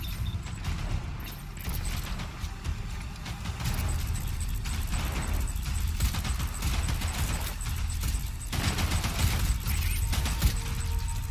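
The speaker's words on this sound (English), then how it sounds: "Who's he shooting?" Gunfire in the video game Death Stranding: a dense, sustained clatter of shots and mechanical rattling runs continuously at steady loudness, with no voices.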